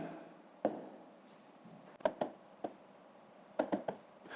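Numbers being written by hand on paper during a sixth-grade maths exercise: faint, sparse pen strokes and taps in small clusters against near silence.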